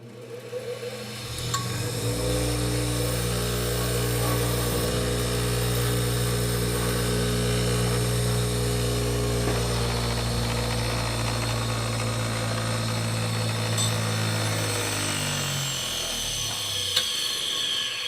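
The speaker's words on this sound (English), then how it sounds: "you'll just lightly skim it on the stone" A spinning sharpening stone hums steadily as an electroplated diamond plate is skimmed lightly across it, with a constant motor drone that slowly winds down near the end.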